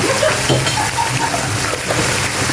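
Squid and onions fry in a hot pan with a steady, close, wet sizzle and crackle, with occasional stirring scrapes throughout.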